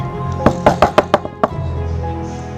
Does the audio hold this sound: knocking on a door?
yes